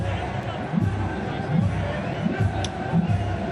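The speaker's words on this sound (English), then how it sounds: "Maybe the crowd's trying to help." Stadium crowd at a T20 cricket match, a steady roar of many voices with rhythmic chanting or clapping surges, heard at a distance under loud continuous hubbub.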